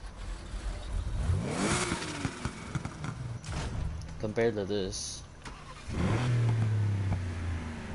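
A Porsche engine revs under ongoing talk, with a rising rev sweep near the start and a strong, steady low engine drone after a brief quieter gap.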